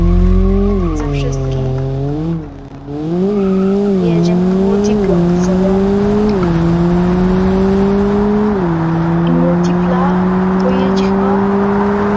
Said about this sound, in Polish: Teraz multipla, chyba najwyższy samochód.